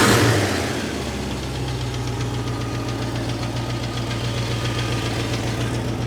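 The engine of a 1969 Mustang idles nearby with a steady low rumble and a sharp, repeating click ticking in rhythm above it, running on evenly throughout with no speech.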